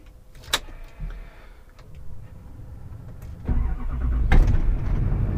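A 2005 Chevy Duramax twin turbo diesel pickup with a 600 hp build moves off, with a few sharp clicks and knocks inside the cab, then a deep diesel rumble that swells and stays loud.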